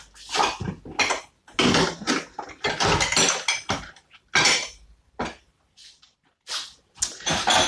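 A metal measuring spoon is handled in a home kitchen while making curry powder, with loud, close clattering and clinking in irregular bursts separated by short pauses.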